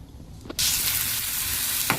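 Oil for a dried-fish curry hits a hot pan and erupts into a sudden loud, continuous sizzle that holds steady, with a brief clink just before and another near the end.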